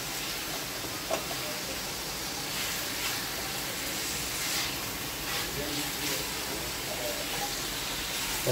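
Mutton chilli cooking in a pan over a high flame, giving off a steady, loud sizzling hiss that runs on evenly, with a voice talking over it.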